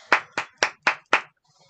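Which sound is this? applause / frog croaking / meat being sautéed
applause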